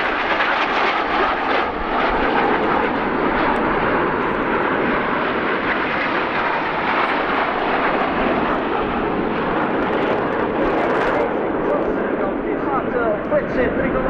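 Aermacchi MB-339 jet of the Italian Frecce Tricolori display team flying past at the RIAT 2018 airshow, a steady loud broadband jet roar sustained throughout with a commentator talking over it.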